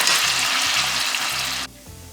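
Ground beef and onions fry in a pan with a loud, steady sizzle and occasional stirring scrapes, cutting off sharply near the end to a quieter hiss.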